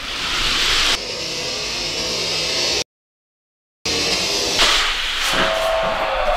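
Hot Wheels die-cast toy cars, an Aston Martin among them, race down a plastic track with a loud continuous rolling hiss. It cuts to silence briefly and then resumes with more rattling and whirring.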